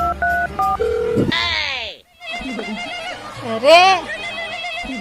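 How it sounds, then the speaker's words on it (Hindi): A telephone rings in a comedy skit with a short series of electronic ringtone tones, followed by loud voices and shouting that continue over the scene. "फिर से किसका फोन आ गया बार बार।"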